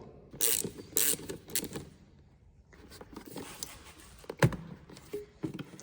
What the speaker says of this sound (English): we're gonna remove one of these clamps, this one here, we're gonna slide out the air filter